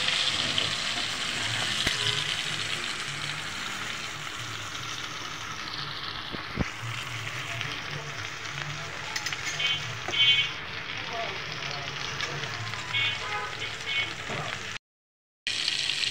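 Large tilapia fish frying in mustard oil in a pan, a steady, soft sizzle and crackle running throughout with occasional clinks as the fish is turned, ending in a brief silence near the close.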